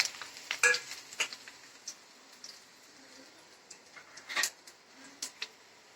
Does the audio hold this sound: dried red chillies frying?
yes